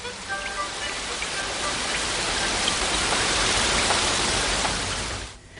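Steady rain falls throughout, a dense, even hiss of drops striking a surface that holds at a constant level before fading out in the final moment; no one speaks.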